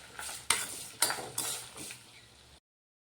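Tamarind and rock salt fry in a pan for tomato chutney. A utensil clanks and scrapes against the pan three times over a soft sizzle, then the sound cuts to silence.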